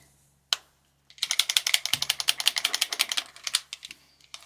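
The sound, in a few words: drawing pens rattling like shaken spray can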